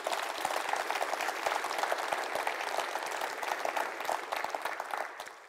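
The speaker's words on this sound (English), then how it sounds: "So please, your applause for Milko and Bojan." A conference audience at the National Palace of Culture in Bulgaria applauds steadily for several seconds, dense even clapping that tapers slightly at the end.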